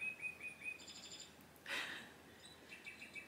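Bird-like chirps from a small chiming indoor clock marking the hour, faint tweets repeating across the span with one louder burst midway, quiet and alone.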